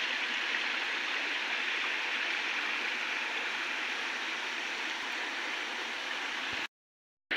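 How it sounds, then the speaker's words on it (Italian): Seasonal waterfall in a side gorge of the Fosso di Pance near Gallicano, a loud, steady rushing roar of falling water close by that runs unbroken for several seconds, then stops abruptly. "qualche altro affluente laterale che forma comunque delle belle cascate come questa"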